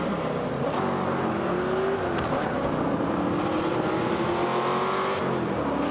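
Chevrolet Camaro ZL1 muscle car engines roar and rev in Forza Motorsport 5 at Laguna Seca, the exhaust note rising and falling as gears change, with other cars droning nearby.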